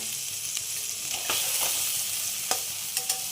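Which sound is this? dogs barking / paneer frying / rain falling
paneer frying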